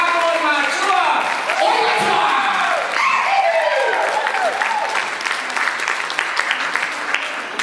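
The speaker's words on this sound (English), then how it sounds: "A big round of applause for our Samoan mātua." An audience at a Toa Pasifiki 20th anniversary celebration in Auckland, New Zealand, bursts into loud, sustained applause for Samoan elders, with cheering and whooping voices rising over the clapping.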